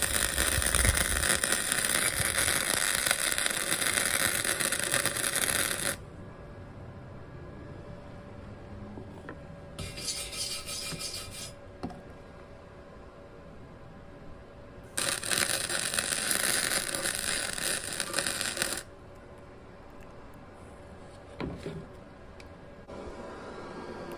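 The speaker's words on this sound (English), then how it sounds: "Now we're just going to weld a full bead across." A cheap, underpowered welder lays a full bead across a backyard snowboard rail in bursts, a harsh crackling buzz lasting several seconds at a time, then stopping, then starting again, close and fairly loud between quieter pauses.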